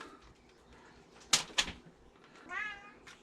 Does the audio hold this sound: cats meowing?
yes